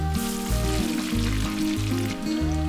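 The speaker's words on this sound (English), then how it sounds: "Then simply deep fry the French fries." French fries deep frying in hot oil, a steady bubbling sizzle under a louder, rhythmic low humming that pulses on and off throughout.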